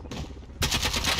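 Rapid gunfire in the Warzone video game, a dense burst of shots that starts softer and jumps louder partway through, sustained and close.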